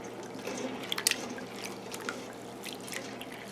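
Salty Irish moss goes into a bowl of clean water with a few light drips and small splashes, soft and close against a quiet room.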